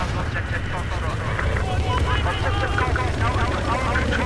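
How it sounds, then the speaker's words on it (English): A helicopter flying in the video game Battlefield 4 gives a dense, steady rumbling drone throughout, mixed with other battle noise and voices talking over it. "All right, helicopter inbound."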